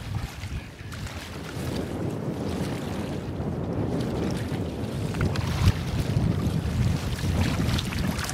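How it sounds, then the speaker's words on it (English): Steady headwind rushing over a canoe on a lake in the Adirondacks, mixed with the wash of water and heavy microphone buffeting. It is a continuous, full roar that holds for the whole stretch, with no voices. "Battling a headwind, but could be worse."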